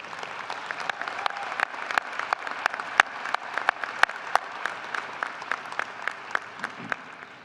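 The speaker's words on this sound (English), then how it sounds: "well-deserved round of applause" Graduates and guests at a winter commencement ceremony give a round of applause; the clapping is fairly thin, with distinct individual claps popping out from a lighter crowd patter at a moderate distance.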